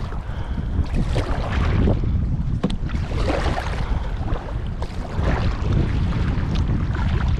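Wind-driven waves and boat wakes on a lake slap and rush against a canoe, with strong gusty wind buffeting the microphone in loud, uneven surges throughout, close and without talking.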